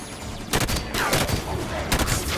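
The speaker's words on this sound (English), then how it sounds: "Don't need them shooting at Jackals, need them shooting at elites." Gunfire erupts in Halo 5, several sharp bursts of weapon fire in quick succession, loud and close over a busy battlefield din.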